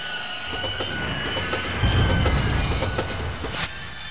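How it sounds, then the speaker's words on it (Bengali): A train rumbles along with a metallic, rattling roar that swells suddenly partway through as the brakes bite hard, then holds loud and close before easing off. "হঠাৎ ট্রেনটা একটা জোরে ব্রেক করতেই চমকে উঠলাম।"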